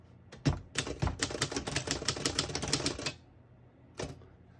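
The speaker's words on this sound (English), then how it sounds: "I'll type a sentence on the next line" Rapid typing on a 1939 Royal Model U portable typewriter: a close, steady run of crisp key strikes for about three seconds, a short pause, then one lone keystroke.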